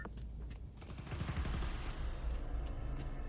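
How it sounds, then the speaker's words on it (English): Rapid gunfire in the Spider-Man: Miles Morales video game as enemies shoot at transformers near a power station, a dense, continuous fusillade of overlapping shots with no talk. "They're shooting transformers."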